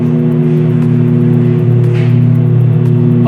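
Piper Seneca twin-engine aircraft on its takeoff roll and rotation in a flight simulator: loud, steady droning engine hum with a constant pitch and a slight swell, no talking.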